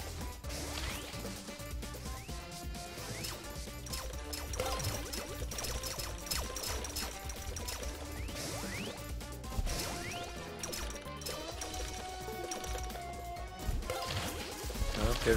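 A bomb explodes in a video game amid a busy stream of crashing, whooshing game effects and music-like tones that run continuously at moderate loudness.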